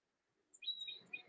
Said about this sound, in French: donc là, on a le bruit des oiseaux.